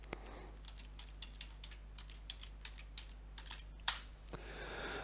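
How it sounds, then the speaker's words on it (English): Keys clatter on a computer keyboard as a sudo password is entered during a Linux software install, a quiet series of light, irregular clicks with one louder tap near the end over a steady low hum. "So just type your sudo password."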